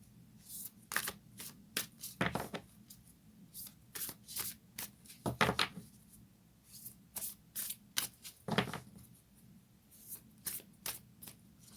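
Moonology oracle cards being shuffled by hand, with repeated soft riffling bursts and flicks in an irregular rhythm, close and fairly quiet, with no talking.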